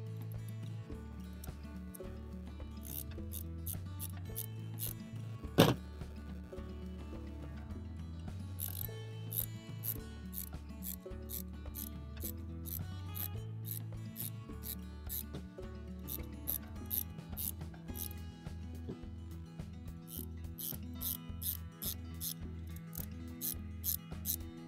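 A wrench ratchets repeatedly while tightening bolts on a kayak J-rack, with quiet, close, rapid clicking bursts in an irregular rhythm and one sharp metallic clink partway through.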